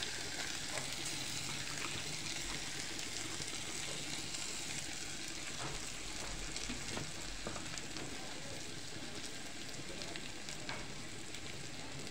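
Fish roe fries in a pan with a steady, dense crackling sizzle that stays fairly faint and even for the whole stretch, with occasional stirring scrapes and no talking.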